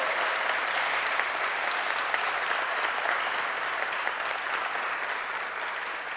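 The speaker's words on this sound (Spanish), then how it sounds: "Un aplauso, por favor." Audience applause at the inauguration of the TERUMO Cardiovascular medical device plant in Cartago, Costa Rica: a steady, dense crowd of clapping that holds at an even level for several seconds, with no voices over it.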